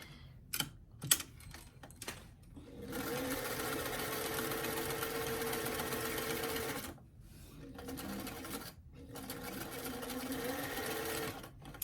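A sewing machine stitches a doll dress in two steady runs of rapid, even mechanical chatter, with a short pause between them and a few faint clicks of adjustment before the first run.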